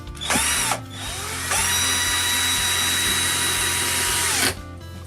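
A power drill drives screws while a wooden birdhouse is built, heard as a close, loud whine that spins up, stops briefly, then runs steadily for several seconds before winding down.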